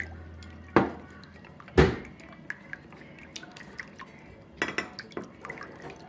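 Spoon stirring two packets of gelatin into about a quarter cup of ice cold water in a bowl, with a couple of sharp clinks against the dish followed by soft wet squishing and dripping taps.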